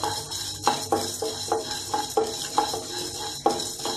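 Fenugreek seeds, black pepper and dried chillies stirred and frying together in a pan for tomato rasam, with a steady background hiss and a regular series of sharp scraping knocks from the spoon against the metal.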